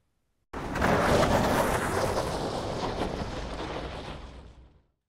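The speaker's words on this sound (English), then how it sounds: "there's also the dirt and kind of debris layers as it skids across the ground" A long, heavy rumbling crash of a ship skidding across dirt, with gritty, scraping debris noise that swells suddenly and slowly fades over several seconds, no voices.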